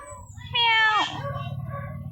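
A single clear cat meow, rising and then falling, rings out close by in a home, followed by a low steady background hum.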